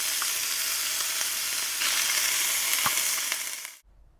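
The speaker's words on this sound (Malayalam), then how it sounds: "അല്പം എണ്ണ ഒഴിച്ച് കൊടുക്കുക. അതിലേക്ക് ടൂണ ഇട്ടൊന്ന് ഇതാക്കിയെടുക്കണം." Tuna frying in oil in a pan, a steady close sizzle with occasional scraping stirs, continuous for about four seconds before cutting off abruptly to near silence.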